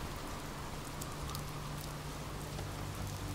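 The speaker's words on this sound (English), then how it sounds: "And it's raining now." Rain falling in the video game Oxenfree, a steady even patter and hiss of drops on surfaces, continuous and fairly quiet with no voices.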